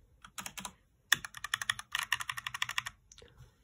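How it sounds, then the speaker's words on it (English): Rapid keystrokes on a SteelSeries Apex 7 TKL keyboard with red linear switches, a close, crisp run of clacking bursts with brief pauses between flurries. "Here is my third main keyboard, the Celsius Apex 7 TKL, the red linear switches."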